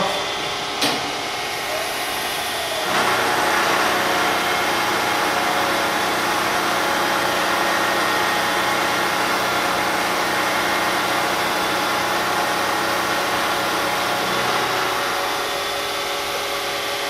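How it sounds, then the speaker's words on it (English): A vertical milling machine cuts a little material off a metal part, giving a loud, steady whirring and grinding hum that begins after a brief start-up clunk and runs for about fourteen seconds, with no speech. "Just going to go ahead and machine"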